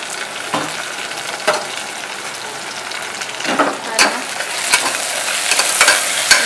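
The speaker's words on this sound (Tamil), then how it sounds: "நல்லா வதக்கி விட்டுக்கோங்க" Onions and mint leaves sauté with a steady close sizzle in a pan, broken by a few sharp scrapes and knocks of a spoon stirring, growing busier toward the end; no one speaks.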